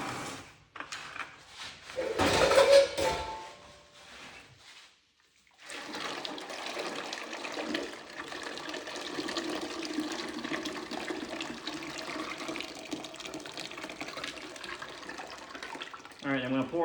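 Liquid is poured into a teapot, heard as a steady splashing stream lasting about ten seconds, preceded by a short clattering burst and a brief pause.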